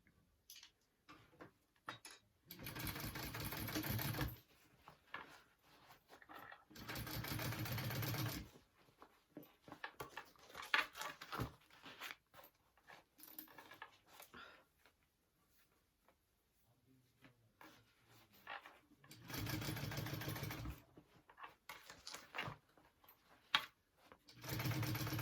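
A sewing machine top stitches a fabric bag with thick foam layers, running in several steady mechanical bursts of a few seconds each, separated by quieter gaps with handling noise.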